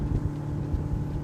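A Selva D 650 Sline family RIB runs fast at about 31 knots with the trim raised high, its engine drone and hull rumble steady and close, mixed with wind buffeting on the microphone.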